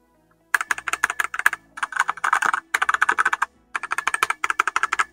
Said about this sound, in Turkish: Red switch'te bakın oradan ses anlaşılıyor bilmiyorum.